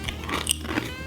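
Someone bites into crunchy animal-shaped puffed snacks that look like Cheetos, giving close crunching and crackling chews for about a second with no talking.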